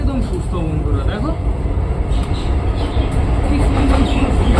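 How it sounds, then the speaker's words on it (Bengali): A train rumbling past on nearby tracks, a continuous heavy roll with faint wheel clatter, heard under someone talking beside his pet pigeons. "আমার ভিডিও করার সময় মিনিমাম 500 বার ট্রেন যাবে"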